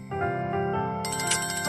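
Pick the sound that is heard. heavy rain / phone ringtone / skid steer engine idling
phone ringtone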